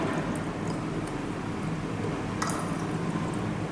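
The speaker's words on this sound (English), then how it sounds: "Slowly add the water from the sides into the measuring cylinder." Water poured slowly down the inside of a measuring cylinder during a soil-texture experiment, giving a steady, close trickling and splashing that runs unbroken from start to finish with no voices.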